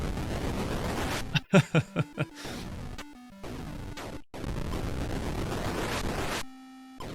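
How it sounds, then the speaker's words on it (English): Explosions in the Atari 800 game Astro Chase come as a quick string of loud synthetic noise bursts, mixed with electronic tones and sweeping game sounds. "they're making the explosions really loud"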